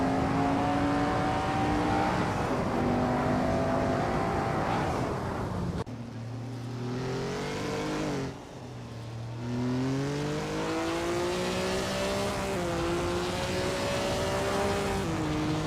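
Engines of race cars in a racing video game drone side by side at high revs, their pitches rising and falling as they trade slipstream, continuous and loud with a brief dip midway and no voices.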